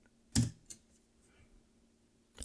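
Computer keyboard keys are pressed for a spreadsheet shortcut: one firm clack, a lighter tap soon after, a faint tick, then another clack near the end, close and isolated in a quiet room.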